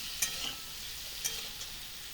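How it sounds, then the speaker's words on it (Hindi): Potatoes and chopped tomato with salt fry in a pan in a home kitchen, giving a steady soft sizzle with a couple of light stirring taps and no voices. "मैं टमाटर को एक कट करके इसमें ऐड की हूँ, और नमक डाल करके इसे भी अच्छे से भूनूंगी"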